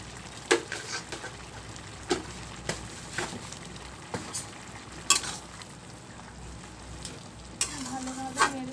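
A spatula scrapes and knocks through banana flower ghonto with potatoes cooking in a pan, giving sharp irregular clacks over a low simmering sizzle, close and with no voices.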